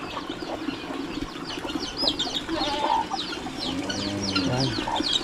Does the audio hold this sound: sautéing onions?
no